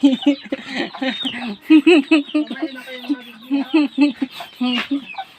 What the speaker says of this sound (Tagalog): Chicken natin o.